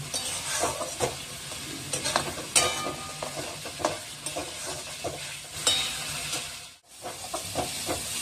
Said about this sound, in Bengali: তার মধ্যে আমি যে পেস্টটা করে রেখেছি পুদিনা পাতা, ধনে পাতা, গরম মশলা, পেস্টটা আমি দিয়ে দিলাম।